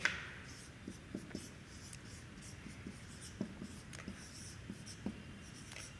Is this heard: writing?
yes